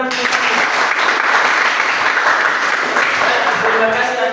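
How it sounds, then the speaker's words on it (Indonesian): Steady, dense applause from a classroom group after a discussion presentation, sustained and fairly loud throughout without a break. "Berikan tepuk tangan."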